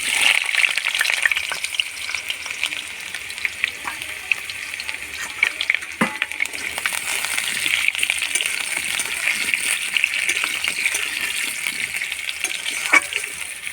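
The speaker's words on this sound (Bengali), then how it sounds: "তো তেল দিয়ে দিয়েছি কড়াই, সর্ষের তেল। এবার আলুগুলো ভেজে নেব।" Potatoes sizzle steadily in mustard oil in a wok at an outdoor cooking spot, a continuous bright crackle with occasional sharper pops and spatters, close and fairly loud with no talking.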